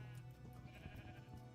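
Sheep in a building video game give a faint, drawn-out bleat, with no voices over it.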